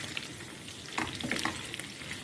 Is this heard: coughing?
no